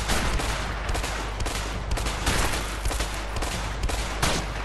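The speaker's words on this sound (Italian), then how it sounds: "Aspetta, aspetta che gli sparo." Sustained bursts of gunfire in the video game A Way Out during a Mexico showdown, a dense rapid fusillade of shots running continuously and loudly throughout with no talk over it.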